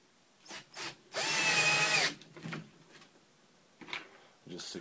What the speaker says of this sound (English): I'm going to drive a couple of these hex heads through this metal aluminum I just drilled